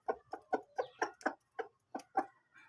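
A lone rooster clucking nearby, a steady run of about a dozen short, evenly spaced clucks in an otherwise quiet setting.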